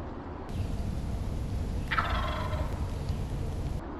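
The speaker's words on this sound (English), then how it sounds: "it's a really long gobble" A wild turkey gobbler lets out one long rattling gobble in the late-season Maine woods, heard clearly at moderate distance over a steady outdoor hiss.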